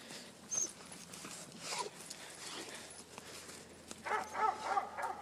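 A hyper dog barks in short bursts while scrambling about indoors, its paws and collar clattering between yips and whimpers, fairly close but modest in level, with a brighter flurry of sharp barks near the end.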